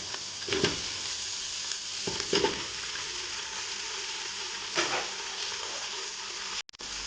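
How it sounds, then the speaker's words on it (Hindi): Steady sizzling from beef frying in a hot pan with garlic and ginger, with a few louder stirring bursts and scrapes along the way. "इनको इसके अंदर लहसुन अदरक के अंदर अच्छी तरह भून लेना"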